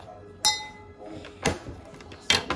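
Fizzy chalk is stirred in a container, heard as three sharp clinks and taps spaced about a second apart over a low background hum, close and fairly loud, with no talking.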